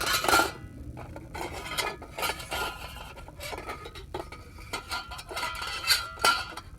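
Camping cook pot and stove being packed together: close, irregular metallic clinks, scrapes and rubs of metal against metal, in uneven bursts with no talking.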